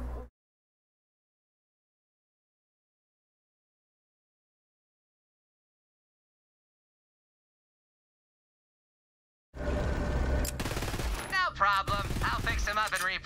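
Weapon gunfire in Borderlands 3, a rapid burst of automatic shots mixed with game effects starting abruptly after a long silence and continuing loudly to the end.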